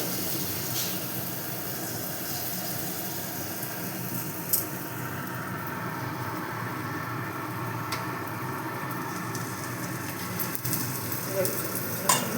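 A ladleful of batter for quick healthy flatbread frying in a pan, a soft continuous sizzle and hiss with a few faint utensil taps, steady and low in level.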